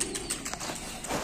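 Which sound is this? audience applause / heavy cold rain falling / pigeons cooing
pigeons cooing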